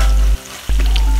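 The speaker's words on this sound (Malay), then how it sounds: "bila minyak dah panas, boleh terus masukkan bawang, kulit kayu manis" Onion, cinnamon bark and curry leaves hit hot oil for a chicken curry, giving a loud continuous sizzle that cuts out briefly and then resumes with a sharp burst of frying.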